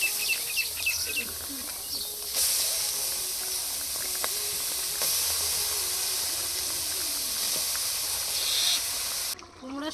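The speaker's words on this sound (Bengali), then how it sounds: "এ সাইডে বাঁধাকপি আর আলু কষিয়ে নেবো" Cabbage and potatoes sauté in a pan with a continuous close hiss of frying, while birds chirp faintly in the background.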